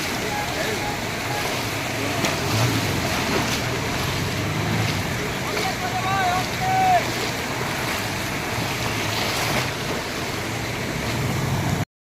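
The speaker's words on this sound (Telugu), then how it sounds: "speed boat riding" A speedboat runs near the shore at Corbyn's Cove Beach in the Andaman Islands, its engine drone blending with steady surf and wind buffeting the microphone throughout.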